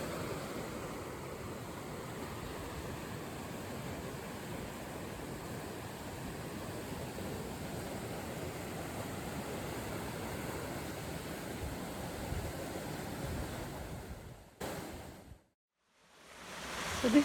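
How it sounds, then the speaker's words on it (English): A fast-flowing river at the Boroughbridge lock landing gives a steady rushing roar that holds evenly, then briefly drops away near the end. "You can see the speed of the river down there"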